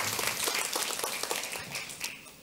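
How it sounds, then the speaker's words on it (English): Faint, brief applause from an audience greeting a moderator at a Latvian defense ministry event, a soft patter of many hands. "A warm welcome means a nice applause."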